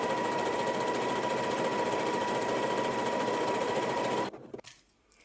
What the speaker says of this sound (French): Je vais surfiler les côtés de ma jupe